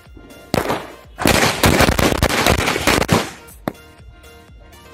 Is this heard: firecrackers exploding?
yes